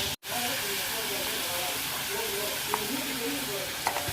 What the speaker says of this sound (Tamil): கட் பண்ணி வச்சுருக்க தக்காளியையும் இது கூட சேர்த்து போட்டு வதக்கிக்கலாம்